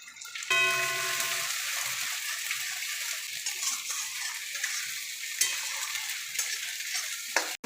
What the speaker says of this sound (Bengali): দেখো আমি কি করে শুটকি মাছটা লাড়া করি